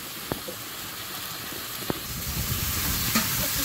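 Spice paste with salt, chili and turmeric fries in a pan for cooking elephant foot yam and potatoes, a soft continuous sizzle with a few sharp utensil taps against the pan.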